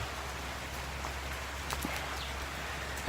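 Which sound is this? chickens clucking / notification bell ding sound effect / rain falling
rain falling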